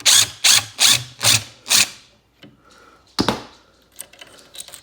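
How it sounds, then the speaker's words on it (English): A ratchet loosens the bolts on a sectional couch bracket, five loud, evenly spaced bursts of clicking near the mic, then quieter handling clatter and a few sharp knocks. "Okay, so I'm gonna just unbolt these."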